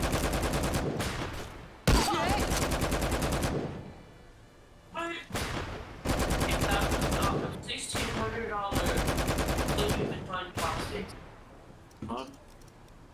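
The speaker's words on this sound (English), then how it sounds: "this is suppressing fire" Suppressing gunfire in the gangster strategy game Empire of Sin, set in Prohibition-era Chicago: long bursts of rapid automatic fire broken by short pauses and single heavy shots, loud and close.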